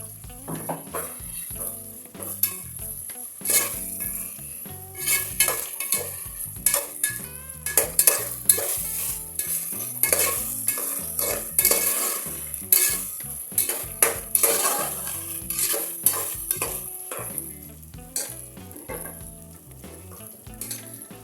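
Ginger garlic paste fries with onions in a pan for a chicken curry, giving a loud, steady sizzle throughout, broken by frequent metal spoon clinks and scraping stirs against the pot; no one speaks.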